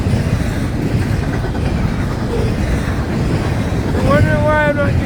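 A nice-looking train rolls past outdoors, a steady loud rumble filling the whole stretch with wind buffeting the microphone, and a brief whistling squeal rising near the end.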